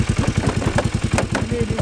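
Engine of a custom Power Wheels ride-on truck built as an OBS Chevy, running close by with a loud, rapid, evenly pulsing chug like a small motor ticking over, with a bit of faint talk.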